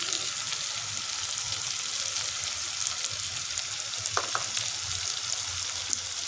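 A potato and drumstick vegetable sabzi frying in a pan as it is stirred, with a continuous sizzling hiss and intermittent soft scraping, steady and moderately close, with no voices.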